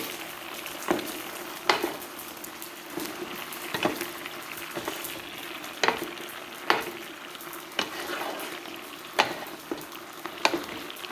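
Thai coconut chicken frying in a pan and being stirred, a steady sizzle broken by regular scraping strokes roughly every second, close and moderately loud with no voices.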